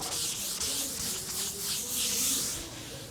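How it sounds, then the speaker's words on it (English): Steady abrasive hand sanding of a car body panel, a continuous scrape with rhythmic back-and-forth strokes, fairly close and moderately loud throughout. "And now let the many hours of sanding begin."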